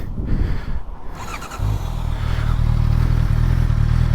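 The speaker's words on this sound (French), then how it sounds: "je vais vous faire écouter quand même le 4 cylindres tant qu'à faire" A Honda CBR650R four-cylinder sport motorcycle idles briefly, then fires into a loud, sustained, smooth rev. It sounds close and strong, with no talking.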